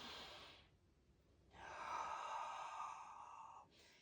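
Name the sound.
deep breath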